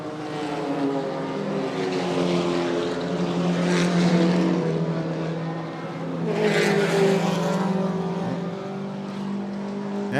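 Race cars, among them an orange and black Toyota 86, pass on a circuit at a club racing event, engines droning and swelling as they approach and fade, heard from a distance and fairly steady.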